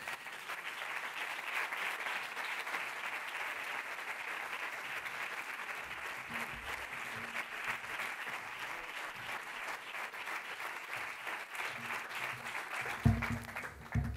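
Applause at the closing gala of the FICCAB 2023 film festival as an award winner is announced, a long even wash of crowd clapping at moderate distance, with a few louder knocks and thumps near the end.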